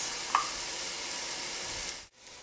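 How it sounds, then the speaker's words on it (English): Garlic and vegetables sautéing in a pan, a steady soft sizzle with one small sharp tick near the start, cutting off abruptly near the end. "We're going to saute this until they're nice and tender, about 5 to 10 minutes."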